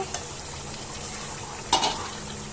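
Chicken feet and skin cooking with potatoes in a pot, a steady low sizzle with a couple of brief spoon scrapes against the pot, one louder stir near the end.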